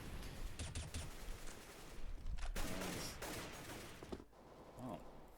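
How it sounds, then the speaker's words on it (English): Counter-Strike: Global Offensive gunfire from a professional esports match, a muffled run of rapid shots and bursts, steady and dense but fairly quiet, with no talk in the clip. "Zipex is going to get the first frag there on Banana, so some damage being done here by the Kevlar-less players of TSM."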